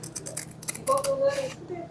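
Scissors snip slowly and with effort through tough pouch material in a series of short crunchy cuts, while someone talks over them.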